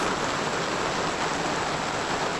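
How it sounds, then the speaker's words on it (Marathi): Heavy night rain falls steadily on a village, a dense, loud, even hiss with no pauses and no voices. "पाऊस आला रे आला पाऊस."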